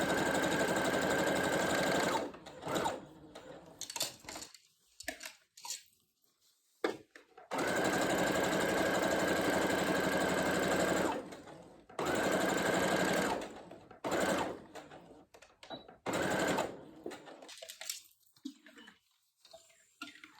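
A Brother CS6000i computerized sewing machine stitches a pillow, its steady motor whir running in several bursts separated by short pauses, close and clear.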